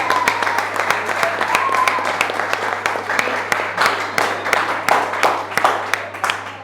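An audience at an inter-school agripreneur competition in Cameroon breaks into lively applause, many hands clapping in a dense, rhythmic patter that holds steady throughout, close and fairly loud, with a faint low hum beneath.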